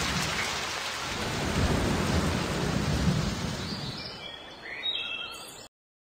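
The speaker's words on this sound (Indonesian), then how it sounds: "Badai sudah turun." A thunderstorm with heavy rain in a Baby Bus children's game: a dense, loud downpour with rolling thunder rumbling through the middle, fading out at the end without any talking.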